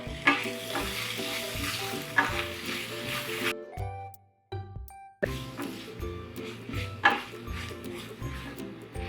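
Chopped green chillies sautéed in a pan for chiratta biriyani, close scraping strokes of a spatula over a steady sizzle, repeated in rhythm, with a brief pause midway before the stirring resumes.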